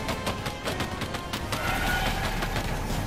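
Enemy gunfire in Earthfall, a steady run of rapid automatic shots at moderate loudness, continuous over game ambience.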